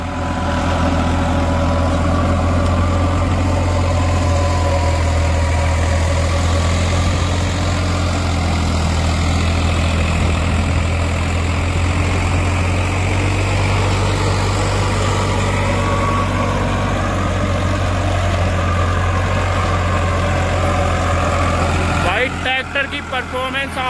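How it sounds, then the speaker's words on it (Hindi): A Farmtrac 60 tractor with a rotavator runs at high rpm on a farm, a loud, steady, close diesel drone that holds constant throughout before a brief rattling change at the very end. "भाई किसान भाई ने खुला आरपीएम पर ट्रैक्टर चला रखा है।"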